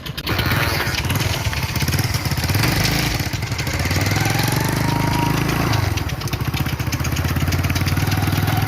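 A motorbike engine running out of petrol sputters and chugs roughly, loud and close throughout in a rural village setting, with no talk over it.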